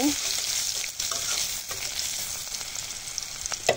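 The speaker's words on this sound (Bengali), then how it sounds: "2টো শুকনো মরিচ মাঝখান থেকে চিড়ে দিয়ে দিলাম, আর 3-4 কোয়া রসুন থেতো করে নিয়েছি, দেশি রসুন। একটু নেড়ে চেড়ে নেব।" Two slit dried red chillies and three or four crushed cloves of local garlic fry in oil, a continuous close sizzle with a few light stirring knocks.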